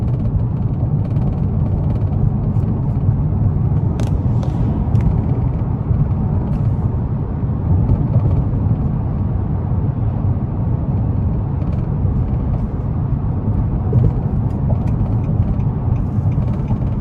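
A 2021 Nissan Maxima SR with a 3.5 V6 cruises a bumpy back road at night, giving a steady, loud low rumble of road and engine noise with faint rattles and knocks throughout.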